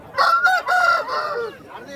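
Rooster at a Vijayawada poultry market, a fighting cock offered for sale, crows loudly and close by in a couple of strained, wavering calls, with no talk over it.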